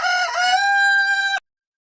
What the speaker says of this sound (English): Do you guys miss the morning rooster?